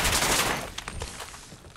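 Rapid gunfire from enemies in modded Fallout 4 gameplay, starting as a loud dense burst of shots and thinning into scattered, quieter cracks and pops.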